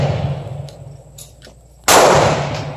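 A single sharp, loud shot from a Taurus PT111 G2 pistol firing Midwest ammunition cracks close by after a few quiet seconds, then rings briefly as it fades.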